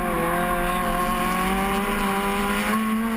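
Loud vintage MG race cars roar past at high revs on the main straight at Grattan Raceway, a continuous dense snarl with shifting pitch as the cars sweep by.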